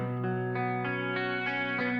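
Clean electric guitar on a clean channel, treated with CLA Guitars processing, stereo widening and reverb, plays a rhythmic run of ringing chords or notes, one about every third of a second, on its own in a heavy rock/grunge production.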